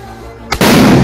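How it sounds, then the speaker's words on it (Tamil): A 4-inch pipe firecracker bursts with one sharp, loud bang, after which a dense roar of crackling and debris carries on. Quiet ambience comes before it. The firecracker was bought in Sivakasi for Diwali. "நம்ம 4 இன்ச் பைப்பு தான் ட்ரை பண்ணி பார்க்க போறோம்."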